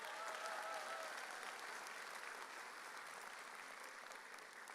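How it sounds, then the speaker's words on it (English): A commencement audience at Texas A&M-Victoria's College of Business spring ceremony applauds steadily, a dense wash of clapping from a large crowd that holds strong throughout and fades slightly at the end. "could we give the staff who pulled this together a big round of applause?"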